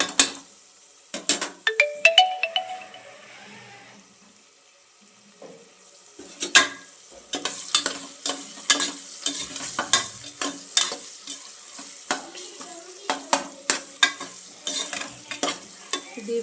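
Green chillies and vegetables fry in oil in a home kitchen pan, with a quiet sizzle under repeated scraping stirs and metallic clanks of a spatula, close and irregular, sparse at first then busier.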